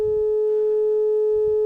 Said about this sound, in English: let's run a pure sine wave into it. It sounds like this.